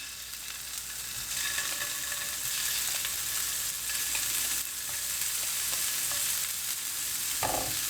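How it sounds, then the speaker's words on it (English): Meatballs fry in a pan with a steady, slow sizzle that crackles continuously and fairly close, with a few brief clinks near the end. "Nice little sizzle."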